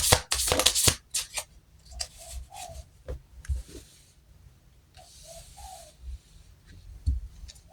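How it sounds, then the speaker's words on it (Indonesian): Tarot cards are shuffled by hand in bursts of riffling and sliding: a loud close flurry at the start, then softer intermittent shuffles and taps, with no voice. "Oke, kita shuffle kartunya."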